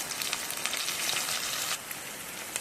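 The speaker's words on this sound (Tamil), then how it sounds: "இப்போ வந்து நான் கருவேப்பிலை போட்டுக்கிறேன்." Curry leaves hit onions frying in hot oil, giving a dense, crackling sizzle like light rain, close and steady with a few sharper spits, and no voices.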